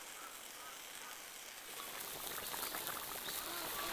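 Konjac tofu and duck meat simmering together in a pot with purple ginger and pickled chilies, a steady close bubbling and hissing boil that grows louder partway through, with no talk.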